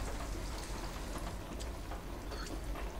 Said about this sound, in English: Now the fucking rain.